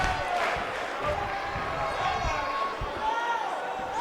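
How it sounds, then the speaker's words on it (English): In the WWE 2K19 wrestling game, a wrestler stomps on a downed opponent's back, landing as short, solid thuds over a constant background of arena crowd noise. "And a stomp to the back."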